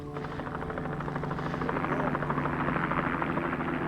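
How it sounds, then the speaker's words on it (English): A military helicopter flies close by, its loud rotor chop pulsing in a steady rhythm over a constant engine drone that grows slightly stronger as it approaches. "a helicopter carrying the Army's divisional commander flew into their shrinking perimeter"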